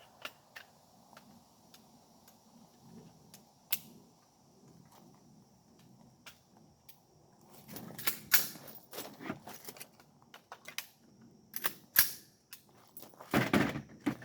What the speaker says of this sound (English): So let me put this gun back together.